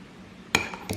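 A spoon clinking against a bowl while mixing yogurt with masala and salt for chicken dopiaza, two sharp close taps in a quiet room.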